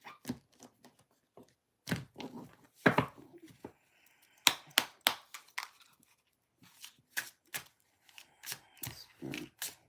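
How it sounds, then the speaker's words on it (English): Oracle cards shuffled by hand in irregular clusters of quick, crisp riffling bursts separated by short pauses, close and fairly quiet, with no talking. "Pull out my oracle cards."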